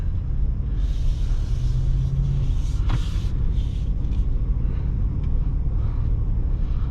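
A 2022 Ford F-250 Lariat FX4 pickup with a 7.3 L V8 drives along, its steady low engine and road rumble filling the cabin evenly throughout, with a few faint knocks and clicks inside.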